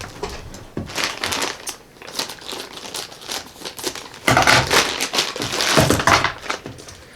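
Plastic packaging around modular power supply cables for a fanless computer build crinkles and crunches loudly and close up in repeated handling bursts, with no talking.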